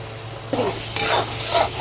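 Tomato masala in oil is stirred in a pan, giving a few short scraping strokes over a soft sizzle. The scrapes are close and moderately loud, spaced roughly half a second apart.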